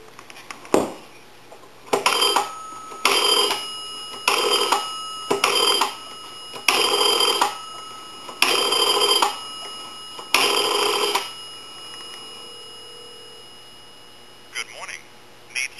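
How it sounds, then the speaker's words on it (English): Old A&E three-slot payphone on a regular line dialing out, a string of about eight bright, evenly spaced tone bursts followed by quiet and faint clicks. "Give you some dial tone."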